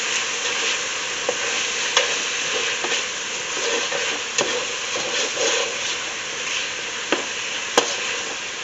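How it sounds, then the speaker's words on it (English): Lasagna soup ingredients stirred in a pot, a steady broadband scraping and sizzling wash with scattered spoon clicks and knocks throughout, alone without talk. "now we're going to cook this for an additional minute, but we got to stir."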